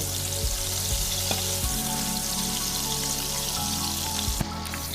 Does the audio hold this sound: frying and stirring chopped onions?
yes